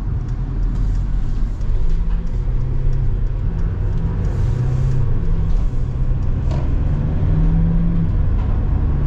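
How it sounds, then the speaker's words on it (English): Steady low diesel drone and road rumble from inside a 2024 Mercedes Sprinter AWD cargo van with a 9-speed transmission while driving, constant and loud without a break. "Really good torque out of the diesel."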